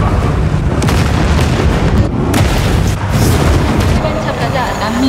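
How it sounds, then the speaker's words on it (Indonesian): Booming blasts and a building crashing down in a futuristic action film, a dense, loud wall of rumbling explosions and debris that runs without pause. "Ledakan terjadi dan gedung runtuh."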